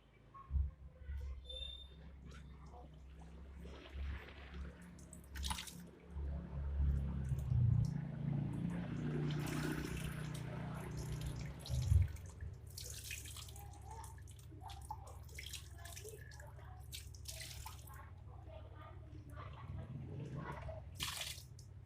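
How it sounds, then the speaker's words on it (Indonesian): Water poured at low pressure over a K&N air filter to rinse it, splashing and running steadily for about twenty seconds, loudest in the middle stretch, close by with no talk. "pertama kita guyur dulu ini pakai air ya"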